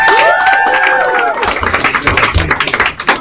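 An audience at a cabaret comedy show in a trattoria claps and cheers for a headlining comedian, loud and close, with whoops at first and then dense, rapid clapping that keeps going.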